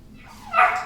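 A dog gives a short rising whimper and yip during clicker training, a single brief close cry over a quiet room.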